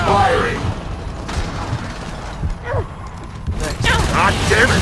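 Gunfire in the video game Gears of War 4 comes in loud bursts and scattered shots over a rumbling battle din, with voices shouting between the volleys.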